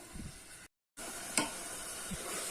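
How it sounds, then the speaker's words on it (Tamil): Tomatoes cooking down in a pan with salt, giving a quiet, steady sizzle with a few soft stirring scrapes and a short gap of silence partway through. "தக்காளி நல்லா மேஷாகிற அளவுக்கு வதங்கட்டும்"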